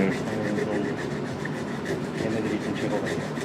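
Wood rubbed by hand with a small torn-off piece of sandpaper in a woodworking workshop, a steady close scratchy rasping that runs continuously with faint rhythmic strokes.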